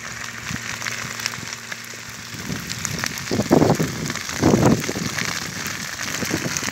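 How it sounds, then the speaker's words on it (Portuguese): Crackling and hissing of fire burning through a coffee plantation, with irregular pops and rushing bursts of flame over a steady windy roar, fairly close. "Vou passar aqui no meio do fogo"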